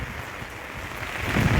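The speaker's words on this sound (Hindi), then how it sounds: "बारिश हो रही है पटना में इस वक्त।" Rain falling in Patna, Bihar, as Cyclone Yaas arrives, a steady broadband hiss of downpour that swells louder toward the end, with no voices.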